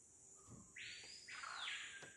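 A bird in the Amazon rainforest sings a few drawn-out whistling notes that slide and sweep, fairly faint and distant against quiet surroundings.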